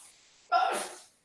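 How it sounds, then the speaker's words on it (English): A single short sneeze, close and fairly loud, with a brief sharp onset and a breathy tail, standing alone. "Bless you"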